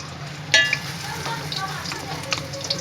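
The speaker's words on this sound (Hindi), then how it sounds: "इसके अंदर हम अदरक लहसुन डालेंगे।" Ginger and garlic sizzling in hot ghee inside a cooking pot with cumin and bay leaf, a steady crackling fry with a sharper burst near the start as they hit the fat, close and alone without talk.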